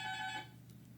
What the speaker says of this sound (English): somebody's ringing my doorbell